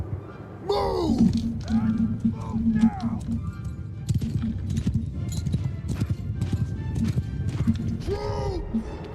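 Cavalry horses in Bannerlord galloping with rapid, dense clip-clop hoofbeats, loud and close, mixed with several whinnies and neighs and the thumps of a battle, while voices shout over the charge.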